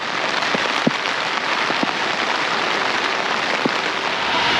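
Steady rain falling at a campsite on a bikepacking trip through Austria, a dense even hiss with a few louder drops tapping nearby, no voices.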